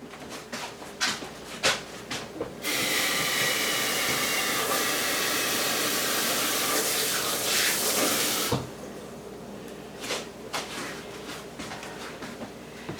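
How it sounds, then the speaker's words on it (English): Hands being washed under a running kitchen tap, a loud steady rush of water for several seconds between clattering handling sounds, close by with no speech. "Gotta wash my hands."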